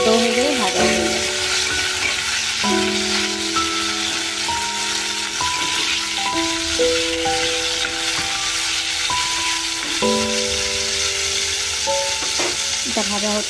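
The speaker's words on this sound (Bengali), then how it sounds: "भाजा होच्छे आमी डालटा शुधु डालटाई बसिएछि" Black gram dal frying in a pan, a steady close crackling sizzle that runs throughout beneath a sustained tonal melody.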